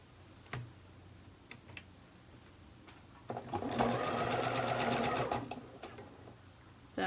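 A sewing machine stitches the shoulder seam of a knit sweater, working from the inside of the seam outward, a rapid steady run of needle ticks lasting about two seconds after a few isolated clicks, fairly close and alone.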